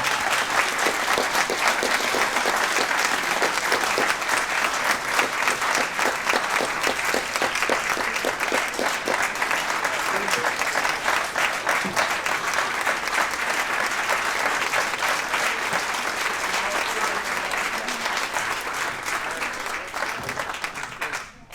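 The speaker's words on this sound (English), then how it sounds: "So if we could give them all a great round of applause." A large audience at a Republican township committee's annual salute celebration claps steadily and loudly for about twenty seconds, a dense sustained applause that holds even throughout and tapers off at the very end.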